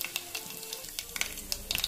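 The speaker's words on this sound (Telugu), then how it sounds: "జీలకర్ర ఆవాలు వేసేసిన వేగుతున్నాయి." Cumin and mustard seeds sizzle and pop in hot oil for a tempering, a steady close crackle with sharp spits and pops scattered throughout, no voices.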